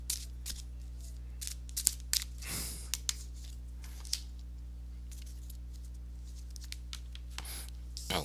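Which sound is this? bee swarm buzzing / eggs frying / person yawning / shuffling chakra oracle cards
shuffling chakra oracle cards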